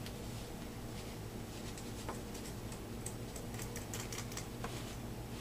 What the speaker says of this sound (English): sorry about the scissors, they're really, really bad